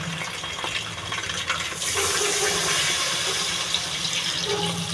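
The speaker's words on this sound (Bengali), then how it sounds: "মিনিট একটু ফ্রাই করে নিয়ে এবার এতে দিয়ে দেবো জল।" Water gushes steadily into a pot of frying potato biryani, a continuous pouring rush that swells after the first couple of seconds and runs loud and close to the end, with no talk over it.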